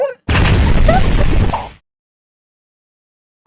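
A single loud cartoon explosion bursts out and rumbles for about a second and a half, then cuts off into silence.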